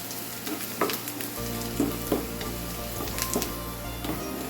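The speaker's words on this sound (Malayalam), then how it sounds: "ഇത് നല്ല ഒന്ന് ഫ്രൈ ആയിട്ട് വരണം" Round dried chillies fry in hot oil with a steady, fairly quiet sizzle and occasional crackles and pops throughout.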